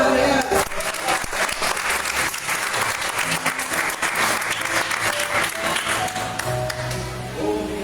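A church congregation claps steadily and loudly throughout, a dense wash of applause with voices calling out beneath it.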